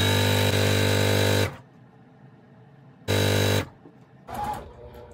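Sewing machine stitching quilt strips onto blocks: two loud, steady buzzing runs of motorized stitching, the first about a second and a half and the second shorter, separated by quiet handling noise.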